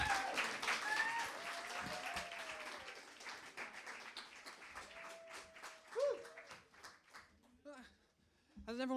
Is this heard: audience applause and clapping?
yes